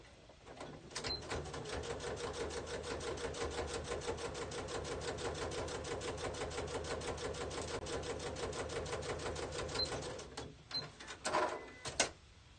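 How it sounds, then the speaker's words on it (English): A sewing machine top stitches an opening closed on a fabric planner pen and phone pouch, running in a steady rapid mechanical patter close by for about ten seconds before stopping, followed by a few handling clicks. "take it over the sewing machine and just top stitch this opening closed"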